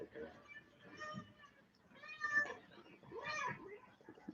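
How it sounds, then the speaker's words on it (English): A black cat with one blind eye meows a few times indoors, the cries mixed in with people talking nearby. "Here's the cat as requested."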